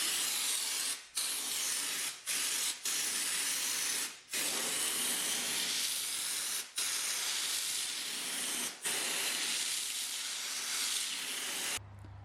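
Spray gun applying anti-gravel underbody coating to a classic Saab 900, with a loud continuous hissing spray close up, broken by brief pauses roughly every one to two seconds.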